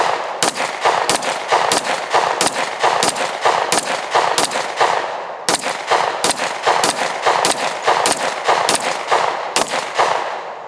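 Sig Sauer and Glock handguns are fired outdoors on a hot, humid range, sharp loud pistol shots coming in a fast, even string, a brief pause midway and then another steady run of shots.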